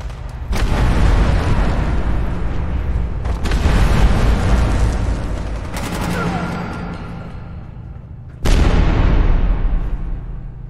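Plasma grenades detonate in a hardcore survival shooter game, loud booming blasts at about 0.6, 3.3, 6 and 8.5 seconds, each with a sharp crack and a rumbling tail, over constant gunfire-like clatter.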